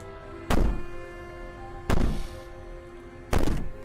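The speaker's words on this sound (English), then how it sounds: "Maybe the banging and wailing will stop if you just don't pay attention to it." In a video game, heavy banging on a door comes as three loud, booming thuds spaced about 1.4 seconds apart, each ringing out briefly over a quiet background hum.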